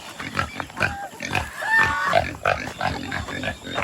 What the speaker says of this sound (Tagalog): Yung baboy.